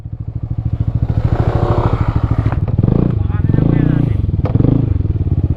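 A motorcycle engine idles with a steady, chugging pulse up close, rising briefly as it revs, with people talking over it.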